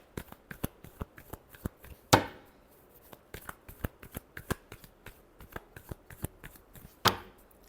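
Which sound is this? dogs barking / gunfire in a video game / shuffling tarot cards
shuffling tarot cards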